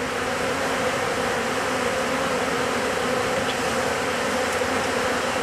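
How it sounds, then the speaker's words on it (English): Steady, close buzzing of a large honeybee swarm packed into a hive box, an even, unbroken hum with no voices. "A lot of bees up top."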